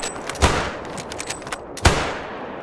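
Two loud, sharp gunshots from a Force Elite 300 bolt-action rifle in the hunting game theHunter: Call of the Wild, each a booming crack with a short decaying echo, about a second and a half apart.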